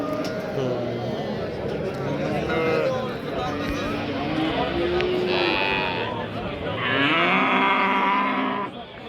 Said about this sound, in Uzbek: Mana yana bola sigirlar.